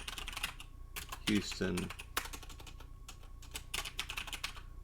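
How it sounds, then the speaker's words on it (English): Typing on a computer keyboard, a quick close run of light key clicks with brief pauses, as a person speaks briefly over it. "And I'm just going to type that in."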